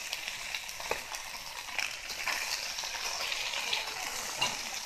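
Ginger and garlic fry in a pan with a continuous bright sizzle and crackle, steady and close, with occasional louder pops and stirring scrapes throughout.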